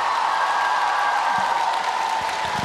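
An audience at a New Year circus show in Luhansk applauds, a dense, steady wash of clapping filling the hall at close range, with a few faint crowd sounds mixed in.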